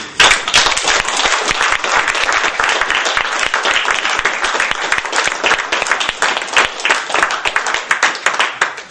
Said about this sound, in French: on les applaudit d'ailleurs